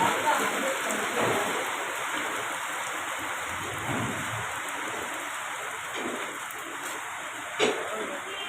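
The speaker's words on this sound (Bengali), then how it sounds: "এই দেখুন বৃষ্টি নামা শুরু হয়ে গেছে বৃষ্টি পড়ছে" Steady hiss of rain falling throughout, fairly close, with a brief louder spatter near the end and faint voices in the background.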